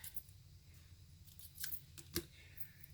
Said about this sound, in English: let me cut this